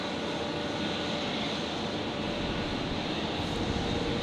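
Qantas airliner touching down at Brisbane Airport at sunset, a steady broad engine rush at moderate distance, continuous and unbroken, with no voices.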